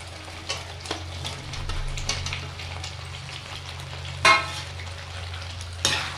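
Fried potatoes being stirred into sizzling spice masala in a pan for an aloo sabzi, steady frying hiss with soft scraping stirs and two sharper clanks of the spoon near the end, close and without talking.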